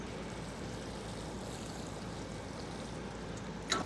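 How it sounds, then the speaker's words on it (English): Water pours steadily onto freshly sown dill seeds in fine soil, a soft continuous shower-like hiss at close range ending with a brief splash or clink. "And finally, we water."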